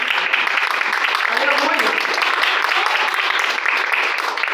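A Pentecostal church congregation at a women's service applauds steadily in a dense, loud wash of clapping, with voices shouting praise over it throughout.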